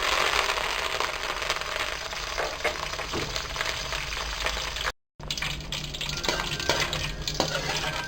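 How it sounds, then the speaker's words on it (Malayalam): Curry leaves fry in hot oil with a loud, continuous crackling sizzle, dense spits and pops throughout, cut by a brief silent break before the frying resumes. "ഇപ്പോൾ നമ്മൾ ചെയ്യാൻ പോണത് നമ്മളെടുത്ത് വെച്ചുള്ള കറിവേപ്പില നന്നായിട്ട് വറുത്തെടുക്കണം"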